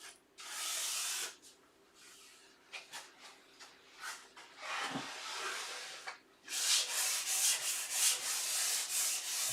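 A sanding block lightly rubs across wood on a dovetailed sewing table piece, giving close, raspy strokes in uneven bursts with short pauses, followed by a quicker series of back-and-forth passes.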